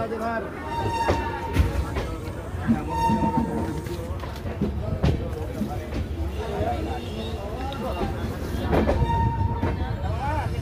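A local train on the Sealdah–Dum Dum line in Kolkata rumbles steadily on the rails close by, with short horn-like tones sounding a few times, while people talk throughout amid platform noise.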